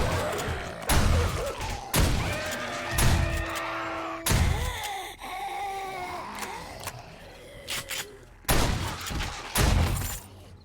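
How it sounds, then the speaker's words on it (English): Shotgun blasts in the survival game 7 Days to Die: about six loud, sharp booms at uneven intervals, each with a short decaying tail, over a steady bed of game ambience. "Let's go ahead and get the shotgun out."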